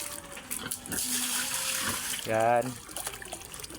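Water is poured out for pigs on a farm, a steady splashing, running flow under a person talking, swelling briefly toward the middle.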